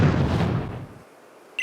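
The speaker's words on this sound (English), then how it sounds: "You hear a large explosion in the distance and you want to investigate?" A large explosion rumbles in the distance in the video game Pokemon Sword & Shield, a deep booming roar that fades out over about a second, followed by a brief bright tonal blip at the end.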